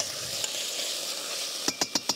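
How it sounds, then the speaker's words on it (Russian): Onions frying in a pan for a weekend goulash, a steady broadband sizzle throughout, with a few sharp stirring clacks of a utensil near the end. "Опять лук, посмотрите, жарится."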